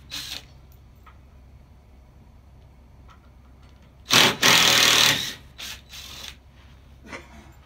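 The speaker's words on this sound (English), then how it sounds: "I bought this old dewalt 20-volt impact gun" An old DeWalt 20-volt impact driver running, with one loud sustained rattling burst of about a second and a few shorter mechanical taps, close by in a quiet workshop.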